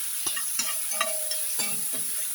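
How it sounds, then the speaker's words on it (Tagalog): Thin potato slices fry in hot oil, a constant bright sizzle broken by several soft stirring scrapes at a regular pace, close and alone. "May prito po tayo ng potato guys."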